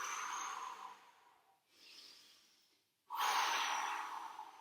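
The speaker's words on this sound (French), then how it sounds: "régulez votre respiration, libérez les tensions" Heavy, audible breaths follow a leg and core workout: a long exhale, a softer breath, then a loud sharp inhale-exhale, close to the microphone with no talking.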